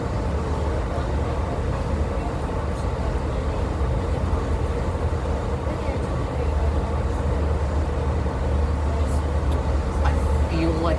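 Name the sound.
train passing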